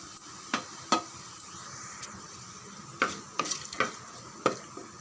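Whole spices such as cardamom and cloves with bay leaves frying in hot oil in a pan: a steady soft sizzle broken by several sharp stirring scrapes and clinks of a utensil against the pan, close and with no talking.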